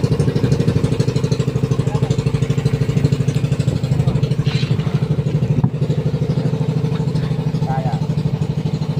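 A single boat motor runs steadily at close range, a loud, even mid-pitched engine drone with a rapid regular pulse and slight clatter throughout, and no other engine joining in.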